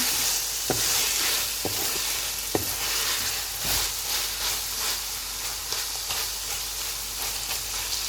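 Chicken fries in masala for biryani with an even, steady sizzle, broken by a few sharp knocks and scrapes of a spoon against the pot.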